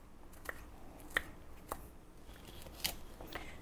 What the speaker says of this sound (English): We're going to start with our garlic. Cut it up nice and fine.